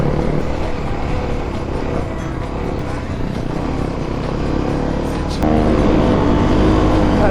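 Kawasaki KLX250 dirt bike engine running steadily on a downhill mountain trail in second gear, a loud continuous drone with rumbling wind, and a rider speaking over it.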